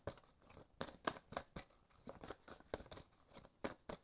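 Tarot cards handled and drawn from a deck, a quick, uneven series of crisp, close card slides and taps with nothing else around.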